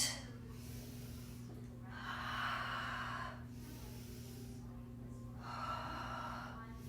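Slow, deep breaths in and out during a yoga routine, two long audible exhales through the nose and mouth, fairly close and soft over a low steady hum.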